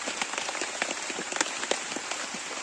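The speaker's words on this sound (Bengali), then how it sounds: "এখন বৃষ্টি থেমে গেছিলো দিয়ে আবার বৃষ্টি চলে এলো" Heavy rain pours outdoors at an open-air wood-fire cooking spot, a steady close hiss with scattered sharper drops spattering on nearby surfaces, and no voices.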